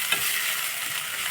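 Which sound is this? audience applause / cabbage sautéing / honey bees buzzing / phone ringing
cabbage sautéing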